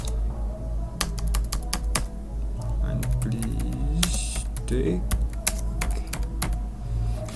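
Typing on a computer keyboard while working in Microsoft Word, quick irregular key clicks and taps in bursts, with a brief spoken word and faint background noise.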